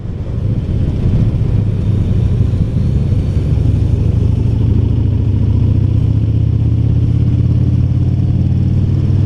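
A 2017 Yamaha V Star Bolt R-Spec motorcycle on the move, its engine giving a steady, loud low drone throughout with no talk.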